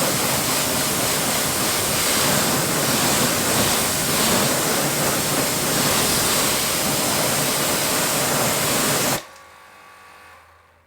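A strong water spray hisses steadily while rinsing the wheels of a Porsche GT3 during a detail wash, loud and close, then cuts off abruptly near the end, leaving faint quiet.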